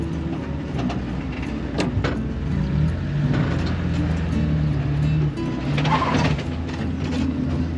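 A Suzuki Samurai engine drones steadily while climbing an off-road trail, revs rising and dipping as the clutch is feathered, with knocks and rattles from the vehicle over the terrain.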